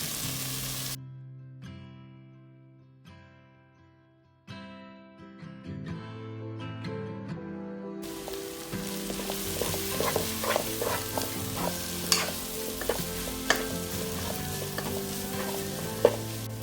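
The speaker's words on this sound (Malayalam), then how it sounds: "മുരിങ്ങയില ഇതുപോലെ ഇട്ട് ഒന്ന് വഴറ്റി ഒരു 2-3 മിനിറ്റ് ഇതുപോലെ ഒന്ന് വഴറ്റിയതിന് ശേഷം" Moringa (drumstick) leaves being sautéed and stirred in a pan for a leaf thoran, a steady sizzle with scraping stirs beneath gentle background music, growing louder and busier in the second half.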